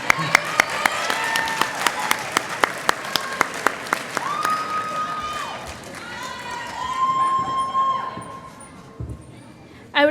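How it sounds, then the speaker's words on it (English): A crowd of graduates at a Latina/o graduation celebration applauds loudly with rhythmic clapping and cheers. The clapping fades after a few seconds into crowd murmur, and a voice speaks over the room. "Yeah, you're applauding your parents and families."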